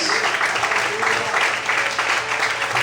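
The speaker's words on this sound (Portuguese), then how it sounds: "Quantos podem aplaudir e glorificar o Senhor essa noite?" A church congregation applauds during an evening worship service, a steady wash of many hands clapping at once, loud and sustained throughout with no clear gaps, the sound of a full room.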